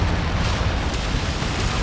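Heavy mech combat in MechWarrior 5: Mercenaries, with a dense, continuous roar of gunfire and explosions. The barrage is loud and close, booming without a break.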